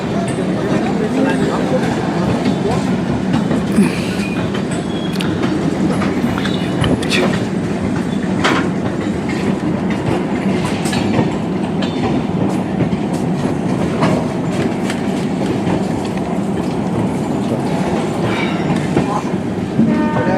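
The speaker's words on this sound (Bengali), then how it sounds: "আমরা এই আমাদের ট্রেন ছেড়ে দিয়েছে একদম টাইমেই" A passenger train running from Kolkata to Delhi rumbles steadily from inside a carriage, with continuous rolling wheel noise and scattered clacks over twenty seconds, while voices murmur faintly in the background.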